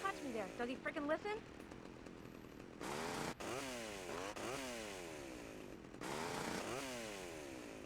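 Chainsaw in the game GTA Vice City, revving in loud repeated bursts with sweeping pitch changes, preceded by a brief voice.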